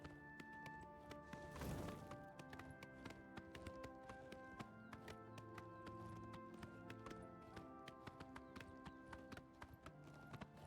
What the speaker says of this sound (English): I like the sound of the hooves on the flagstones.